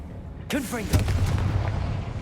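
Confringo fire spell cast in Hogwarts Legacy, a sharp blast at about half a second followed by a heavier booming burst and a sustained low rumble, with a voice speaking briefly during it.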